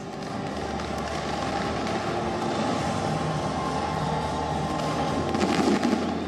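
New Year fireworks over Paris crackle and boom in a dense, continuous barrage, steady and loud throughout with a slight swell toward the end.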